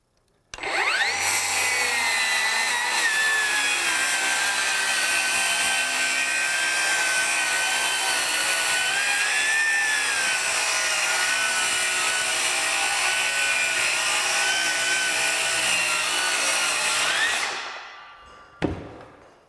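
A DEWALT FlexVolt 60V 7-1/4-inch DCS578 cordless circular saw makes a full-depth cut through wood, with a loud, steady high whine for about seventeen seconds before spinning down, with a brief clunk at the end.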